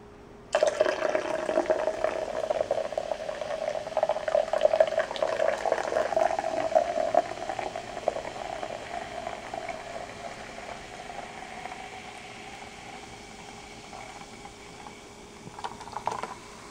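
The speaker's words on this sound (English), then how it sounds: "pouring ginger ale in a glass" Ginger ale is poured into a glass, a steady close liquid stream for several seconds, then fizzing and settling bubbles that fade gradually, with a small clink near the end.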